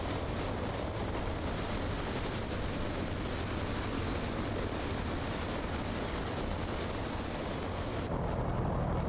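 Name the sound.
Grumman F4F-4 Wildcat aircraft taxiing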